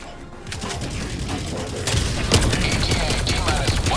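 Rapid gunfire in the shooter Helldivers 2, loud and close, with dense bursts of shots that grow heavier partway through, mixed with clanking mechanical game sounds.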